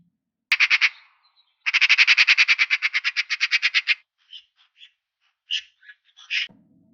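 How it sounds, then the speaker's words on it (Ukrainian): A magpie gives a loud, harsh rattling chatter in two rapid bursts, followed by a few scattered single calls and a brief low sound. "Правильно, це сорока."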